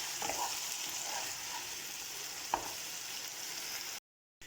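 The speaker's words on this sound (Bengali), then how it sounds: "ভালো মতন পেঁয়াজকে সব কিছুর সাথে মিশিয়ে ভেজে নিচ্ছি 2 থেকে 3 মিনিটের মতন।" Onions fry with spices over medium heat for dum aloo, a constant, moderate sizzle with one sharp spatula knock. It cuts off abruptly near the end, and nobody speaks.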